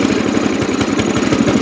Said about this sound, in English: it runs all right, accelerates pretty good, and it goes down to idle